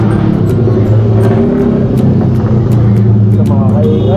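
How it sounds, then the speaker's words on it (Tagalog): A motorcycle threads through road traffic, its engine holding a loud, steady rumble close by with brief revving near the end, while a voice talks over it. "ganito yung motor namin, nakakapasok sa traffic"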